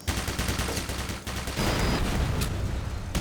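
Gunfire in Black Mesa aimed at a laser tripmine: a dense, continuous stream of loud shots and blasts with a brief break partway, close and heavy, no talking.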